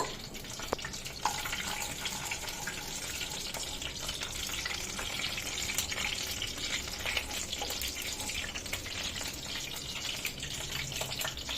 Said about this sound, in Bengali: আমি মশলাগুলো আগে চিংড়ি মাছ আর কাজু ভাজব